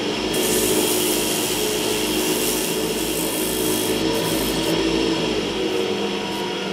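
Sponge sander working over a wooden spinning top, a steady continuous abrasive rasp with a low motor drone underneath, close and moderately loud throughout with no pauses.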